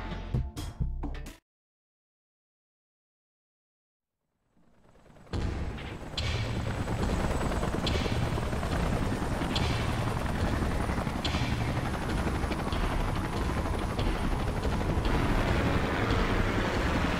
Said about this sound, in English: Let's call in the salvage choppers and get it out of here.